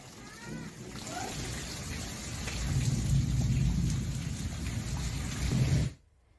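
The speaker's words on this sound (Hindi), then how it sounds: "बेगूसराय, अररिया, भागलपुर और पूर्णिया में बारिश की ये तस्वीरें इस वक्त आपके टीवी स्क्रीन पर" Steady heavy rain with rumbling thunder during a storm in Bihar, India, building in loudness through the middle and continuing until an abrupt stop near the end.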